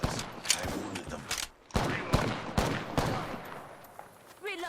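Rapid gunfire cracks through a fight in Apex Legends, a steady run of loud shots and bursts with game voices mixed in beneath.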